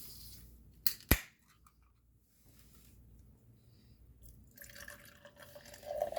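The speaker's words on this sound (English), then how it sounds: "So let's just crack this open first." A can of New England style double IPA beer is cracked open with two sharp snaps. Faint fizzing follows, and then a soft liquid pour close by, with no talking.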